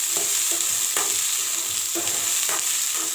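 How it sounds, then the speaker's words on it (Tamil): Soya chunks are stirred in a hot pan, with a steady frying sizzle under a series of regular spatula scrapes about half a second apart, close and clear. "அதை நல்லா கலந்துடணும்"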